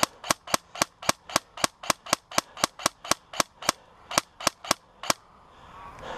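Shots fired back in a Hardball game session, a rapid, evenly spaced string of about twenty sharp cracks over five seconds, loud and close, then a quieter tail of rustling.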